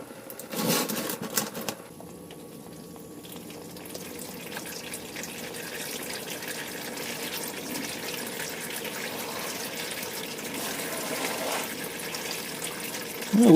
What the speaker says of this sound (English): let it tilt down and start letting the fluid drain out